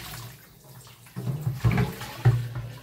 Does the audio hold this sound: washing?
yes